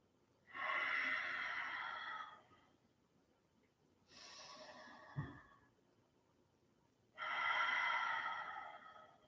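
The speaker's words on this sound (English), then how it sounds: "Let's take in 2 more deep rounds of breath." Deep yoga breathing in a calm class, two long slow nasal inhales separated by a softer exhale with a brief snort, close and clear against quiet room tone.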